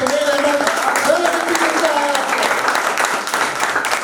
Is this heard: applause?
yes